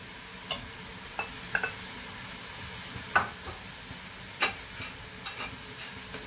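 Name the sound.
chicken frying with onion, garlic and tomato in a pan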